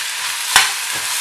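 Tomato, fennel seeds, pepper and rock salt sizzle steadily in a hot pan, with a brief scrape of a spoon stirring them near the middle.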